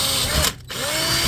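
A power drill bores through a scrap aluminum adapter plate meant for a throttle wire, a close, steady whirring grind that briefly stops mid-way and then resumes, with no talking.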